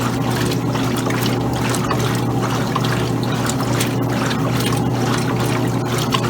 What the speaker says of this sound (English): agitator turns two ways from agitating the clothes to wash and rinse everything